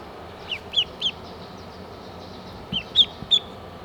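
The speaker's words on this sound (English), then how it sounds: "but I have a duck" A pet duck named Wilmer gives several short, sharp high calls in two clusters, close by over a low steady background hum in a workshop where a Mazda RX7 is being restored.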